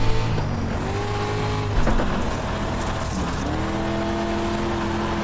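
Dirt street stock car in iRacing, its engine droning loud and close with rising and falling throttle pitch as the driver works the gas through a corner, tire noise underneath and no voices.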